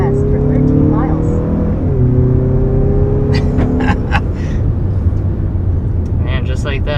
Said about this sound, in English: Yeah, so the CX-50 with the turbo engine is quick, just like we expect from all the Mazdas that have this turbo engine.